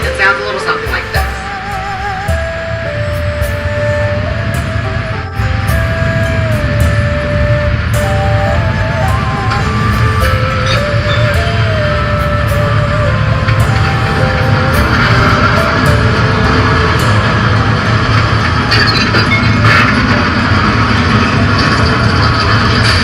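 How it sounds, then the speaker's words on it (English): A recording of a magnitude 8.3 California earthquake gives a loud, continuous deep rumble that rolls on without a break, with grinding, shifting tonal layers on top. "in case you've never heard what an earthquake sounds like, it sounds a little something like this."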